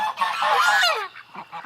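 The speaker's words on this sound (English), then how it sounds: "The Canada geese just left the yard. There's a third one chasing those two right now." Canada geese honk loudly in a yard, a burst of overlapping nasal calls followed by a few shorter, quieter honks as they move off.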